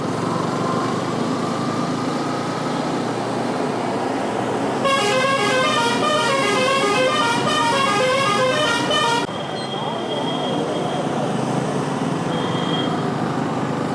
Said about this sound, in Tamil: அந்த லாரி ஏற வரைக்கும் நம்ம கொஞ்சம் தள்ளியே இருக்கணும்.